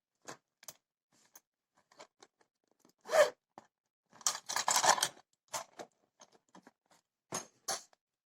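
Scissors snipping crochet yarn from a poncho, a few close crisp cuts and rustles among small scattered clicks, with quiet gaps between.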